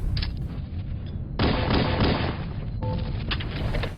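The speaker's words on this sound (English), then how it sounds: "Number 2. The pistol. Halo Combat Evolved." The pistol in the video game Halo: Combat Evolved fires in a few sharp, punchy reports spaced about a second apart over a dull in-game background.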